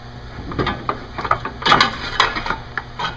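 A ratchet works a clutch fan nut loose on a Jeep engine during a fan conversion, giving irregular metallic clicks and clanks in short bursts, close by and with no one talking.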